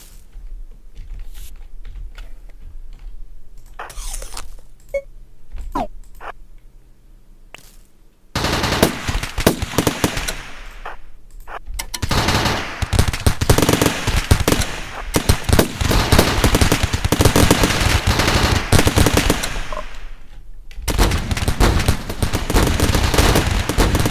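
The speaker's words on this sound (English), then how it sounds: "We're just gonna power up our gun turrets." Gun turrets firing in the combat game RimWorld crackle in dense, rapid bursts of sharp shots, loud and continuous after a quieter stretch of scattered pops at the start.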